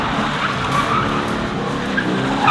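Drift car spinning donuts with no working brakes, tires skidding and squealing continuously over a loud, steady engine roar close by, with no talking.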